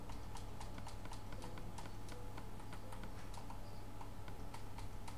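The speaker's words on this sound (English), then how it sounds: "I can hear a horse now as well." Rapid, steady clopping of horse hooves in Minecraft plays continuously at a low level, a light, even rhythm of ticks like a game soundtrack in the background.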